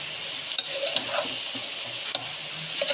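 Cabbage and potato frying in a pan, with a steady close sizzle and a few scraping clicks from a spoon stirring the vegetables. No talking.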